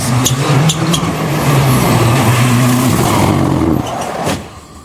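A Peugeot 307 WRC rally car at the Rallye Lyon Charbonnières 2011 roars loudly and steadily with a low engine drone, then abruptly cuts off near the end as it leaves the road.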